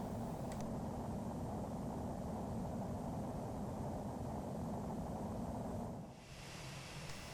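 An Airbus A318 with full payload and full fuel in Microsoft Flight Simulator X at Armando Schwarck airport makes a steady, loud engine roar with a broad rushing hiss. The roar drops a little in level near the end.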